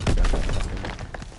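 A glide bomb explodes in a first-person shooter, a loud blast with crackling, shattering debris that fades over about a second, with no talk over it.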